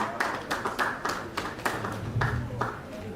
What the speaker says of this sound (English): Please put your hands together for her as she comes up the stage.